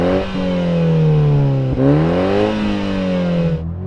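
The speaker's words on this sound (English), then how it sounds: "I'm going to rev this thing up." A Toyota Supra's 2.0-litre four-cylinder engine revs hard and close, its note climbing, dipping briefly and climbing again across several blips before cutting off abruptly, with no talk over it.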